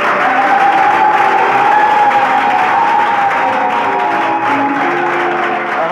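A church congregation at a conference applauds and cheers, a steady, loud wash of clapping and shouts that stays dense throughout, with a voice faintly audible within the crowd.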